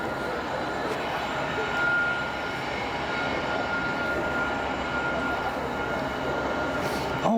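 A CSX coal train rolls past near Harpers Ferry, West Virginia, a steady, fairly loud low rumble that holds throughout with little change.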